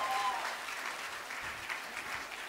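An audience claps at an unplugged concert with a string band, a brief dense patter of applause at moderate distance, with a faint voice near the start.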